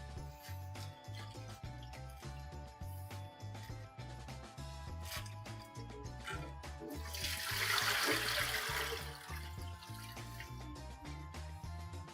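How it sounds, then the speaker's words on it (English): Tap water runs into a bowl being refilled for defrosting chicken, a rushing splash that swells midway, under a steady rhythmic background beat, quiet and with no speech. "Refilling the water on defrosting the chicken."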